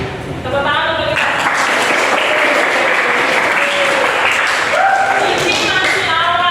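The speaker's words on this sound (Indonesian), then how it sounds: "Tepuk tangan untuk kita." Classroom of students applauding together, a dense sustained clapping that fills the room loudly from start to finish, with voices calling out and cheering over it.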